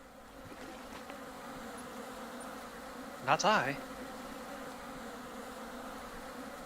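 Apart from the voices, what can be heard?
buzzing mosquitoes in the video game Vintage Story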